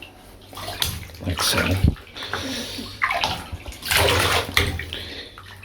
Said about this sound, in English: we're just going to dunk her in there